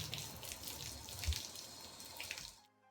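Free-flowing water rinsing a car's plastic trim, a steady splashing stream running close for over two seconds before cutting off abruptly into near silence.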